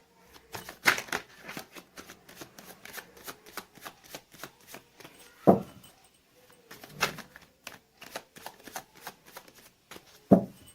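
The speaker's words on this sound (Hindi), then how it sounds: "मैंने कर ली है कार्ड्स की सफलिंग" Tarot cards being shuffled by hand, a steady run of quick crisp riffling flicks with a few louder slaps, close and alone with no talking.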